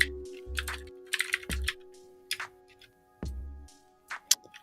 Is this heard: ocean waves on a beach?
no